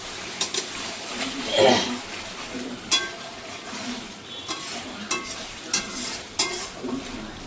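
Butter chicken is stirred and fried down over low gas in a pan, a low sizzle under repeated sharp scrapes and knocks of a spatula against the pan, close and irregular.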